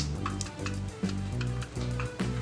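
Sizzling as prepared masala is tipped into cooked chickpeas for restaurant-style chana masala, with a steady frying hiss and a few soft stirring clinks and scrapes over a continuous low hum.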